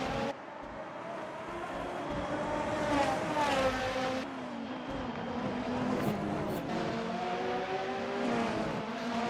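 Dallara Super Formula race cars scream around the Sepang circuit in Assetto Corsa, high engines rising and falling through gear changes as several cars pass and corner, loud and continuous.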